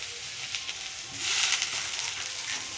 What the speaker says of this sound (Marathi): त्याचबरोबर आल्याचे तुकडे घालते, ते थोडे परतून घ्यायचे